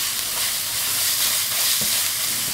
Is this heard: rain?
no